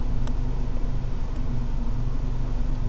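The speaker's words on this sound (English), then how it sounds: "Throttle's flat out." A Mercedes A45s engine holds at full throttle with a steady, loud, dense roar and low droning harmonics, continuous and unbroken for the whole stretch, with no talking.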